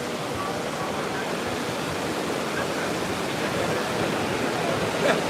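Rushing snowmelt water pouring alongside a Colorado train ride, a steady, dense hiss and roar that holds constant throughout with no breaks.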